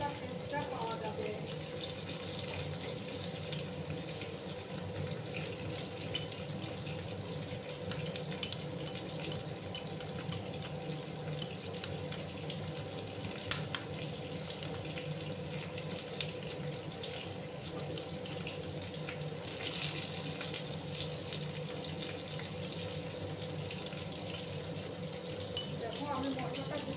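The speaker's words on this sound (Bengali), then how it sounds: "মশলাটাকে আমি একটু জল দিয়ে ধুয়ে নেব" Water running steadily from a tap while ground spice paste with Kashmiri chilli powder is rinsed, a continuous soft rushing splash lasting the whole stretch, with a voice talking over it at times.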